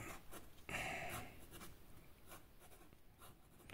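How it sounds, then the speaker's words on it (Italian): An extra fine fountain pen nib scratches across paper in quiet, close strokes, with one brief louder scratchy stroke near the start and soft, irregular writing sounds after it. "gli extra fini tendono un po' a grattare la carta"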